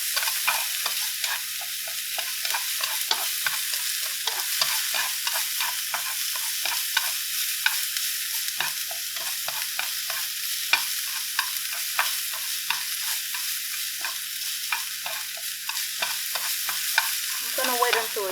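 Rice noodles and vegetables stir-fried in a pan with tendon, a steady close sizzle broken by many quick scraping and tossing strokes throughout, with no talking.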